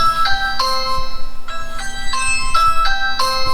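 A Ring Video Doorbell 2 chime plays through a phone speaker as a repeating series of bright, ringing two-tone notes, loud and clear over a faint background hum.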